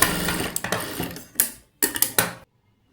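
A sewing machine stitching the edge of a puff sleeve runs in several short, close bursts of rapid needle clatter with brief pauses between, then stops abruptly, leaving near silence.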